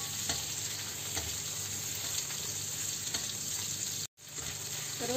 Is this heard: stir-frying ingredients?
yes